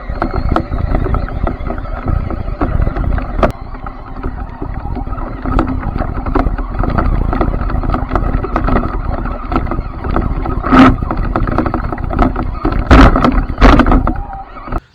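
Redcat Clawback 4x4 RC truck careening offroad with an onboard camera, a continuous loud rumbling drive and rushing wind buffeting the mic, with sharp clattering knocks near the end as it bounces over rough ground.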